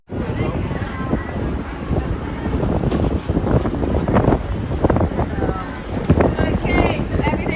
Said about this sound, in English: The damn wind is blowing so bad.